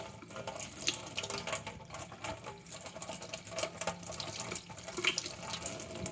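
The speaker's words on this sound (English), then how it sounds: "Now we need to wash them a little bit. Some cold water." Cold tap water runs steadily into a kitchen sink while ramen ingredients are rinsed, a close, splashing stream with uneven gurgles and spatters throughout.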